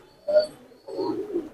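Two soft, low Rampuri pigeon coos, one short and one longer rolling call, close by with a quiet pause between them.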